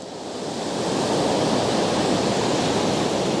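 Ocean waves wash onto the shore, a loud, continuous surf roar that swells in over the first second and then holds steady, with no voices.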